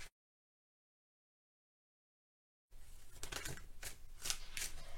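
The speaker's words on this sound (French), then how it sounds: "je bats les cartes et je prends uniquement celles qui sautent" Tarot and oracle cards being shuffled after a stretch of silence, with quick papery riffles and flicks in a close, soft burst.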